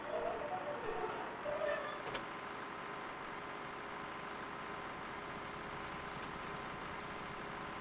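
Tractor engine in Farming Simulator 2013 drones as a steady low hum throughout, with a brief louder burst of mechanical sound near the start before settling into an even idle-like rumble.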